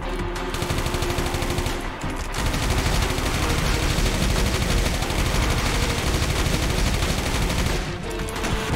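Rapid automatic gunfire in the video game Final Exam, loud and close, as sustained bursts of fire with two short breaks.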